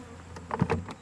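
A short burst of honeybees buzzing as a honey frame is shaken to knock them off during honey extraction, several close, wavering buzzes rising and falling within about a second.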